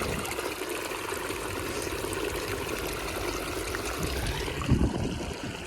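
Irrigation water runs steadily into a cumin field, a faint, continuous rushing trickle with a small splash near the end.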